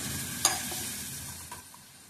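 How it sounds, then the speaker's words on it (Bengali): Water poured into a hot pan of fried onion and poppy seed paste for an egg curry gives a steady, moderately loud sizzle with a sharp utensil clink near the start and a couple of lighter taps later. "ভালো করে ভাজা হয়ে গেছে, এবার জল দিয়ে দিলাম।"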